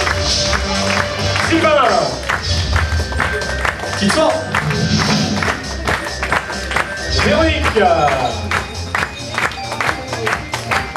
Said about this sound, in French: Allez, on les applaudit encore une fois.